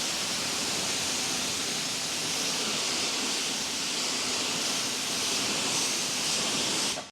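An AR630 V2 pressure washer runs while spraying heavy water onto a car panel, a dense, continuous hissing rush of water and motor noise that holds steady and close before cutting off abruptly.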